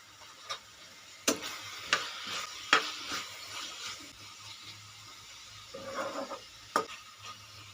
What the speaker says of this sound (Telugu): ఇప్పుడు తిప్పుకుందాం.